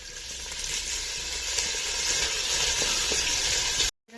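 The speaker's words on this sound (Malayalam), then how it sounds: "ഇനി ഈ എണ്ണയിൽ ആദ്യം വെളുത്തുള്ളി, പച്ചമുളക്, പിന്നെ ഇഞ്ചി" Garlic, green chilli and ginger sizzle steadily in hot oil in a pan, a continuous close hiss and crackle that stops abruptly at the end.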